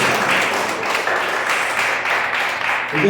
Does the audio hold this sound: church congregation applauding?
yes